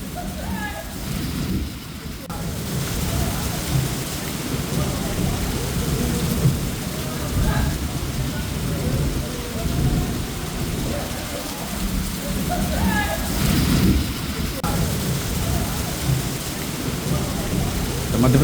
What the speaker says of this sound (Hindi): मध्य प्रदेश के 2 शहरों में आंधी तूफान की स्थिति आप देखें, तस्वीरें आप देखें।